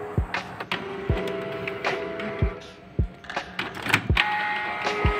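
A Canon Pixma G2010 printer runs an ink cleaning cycle, giving off repeated mechanical clunks, whirs and short tonal motor whines at close range, with no talking.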